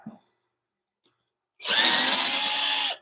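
A power drill backing screws out of a woodturning lathe bowl mount, a loud, close, steady whirring burst of about a second and a half after near silence.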